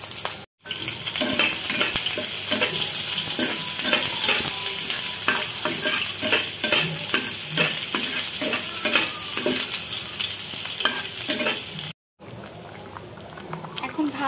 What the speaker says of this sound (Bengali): এখন একটি প্যানে কিছুটা সরিষার তেল দিয়ে আমরা কিছু রসুন ভেজে নিব।